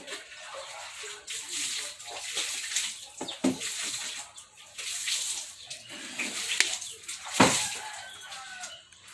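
Water boiling in a pot on a wood-fired stove, a fizzing, bubbling wash of sound with occasional louder splashes and knocks, moderately close, with faint voices and a rooster calling in the background.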